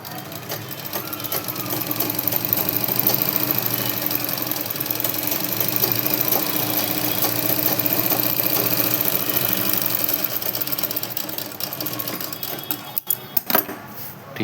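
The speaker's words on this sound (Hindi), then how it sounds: "अब आपको स्टिचिंग इधर से करनी है जो आपको दिखे" A sewing machine runs steadily while stitching a blouse, a continuous close whirring hum lasting several seconds before a few brief clicks and pauses near the end.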